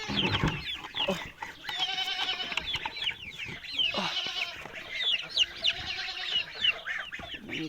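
Chickens and roosters cluck and crow continuously at close range, a busy barnyard chorus with occasional louder calls rising over the flock, ducklings and chicks nearby.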